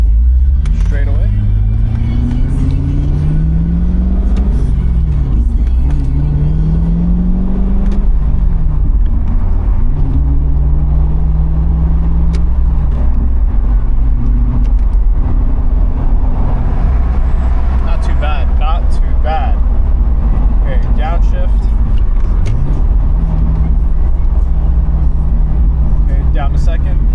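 Chevrolet C6 Corvette driving and accelerating, a loud steady engine drone with rising and falling pitch sweeps through the gears, heard from inside the car under continuous road rumble.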